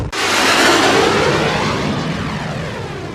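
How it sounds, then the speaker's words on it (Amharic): A rocket launch and blast in Ukraine, heard as a sudden massive roaring boom that stays loud and rumbling and fades only slowly over a few seconds. "Пошла ракета."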